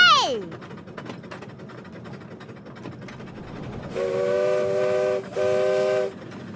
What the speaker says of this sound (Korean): 한글 기차 출발!